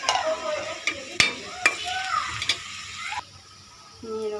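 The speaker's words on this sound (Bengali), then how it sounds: "পেঁয়াজটা লাল করে ভেজে নেব। দিয়ে দেব হাফ চামচ মতো" Whole cumin seeds and onion frying in oil, with a steady crackling sizzle and stirring scrapes punctuated by a few sharp clicks, close and moderately loud, fading down near the end before resuming.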